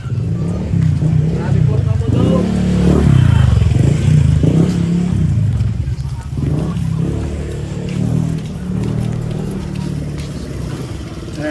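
Green tricycle motorcycles idle and rumble at a terminal, a continuous low engine drone with some revving and clatter, while people talk over it close by.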